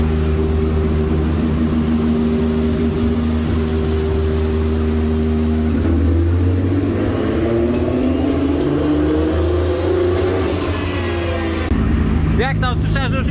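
A BMW E46 fitted with a 2JZ engine runs steadily in a workshop, a loud continuous drone with a rising pitch sweep partway through, as people talk over it.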